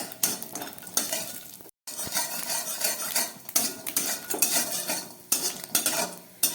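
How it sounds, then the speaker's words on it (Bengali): Broken lentil dumplings (bori) frying in oil in a wok while a metal spatula stirs and scrapes them, giving repeated clattering strokes over a soft sizzle, with one brief silent gap. "আমি 4-5টা বড়ি আমি ভেঙে একটু ভেজে নিচ্ছি"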